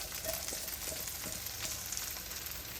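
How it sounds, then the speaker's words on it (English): Corn frying in neutral oil in a cast iron skillet, a dense, continuous sizzle close up with small crackles and pops, steady throughout with no voices. "So I've added some neutral oil to my cast iron skillet, and I'm about to put the corn in."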